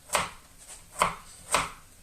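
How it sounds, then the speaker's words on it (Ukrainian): Three evenly spaced knife chops through carrots on a cutting board, close and moderately loud, with a quiet pause between each stroke. "Моркву нарізаємо."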